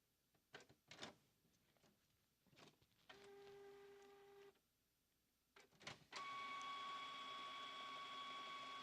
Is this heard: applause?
no